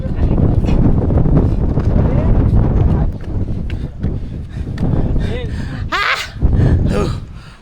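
Strong wind buffets the microphone in loud gusty rumbles throughout on a hill-fort trek at Tandulwadi Fort, with people talking and calling out over it.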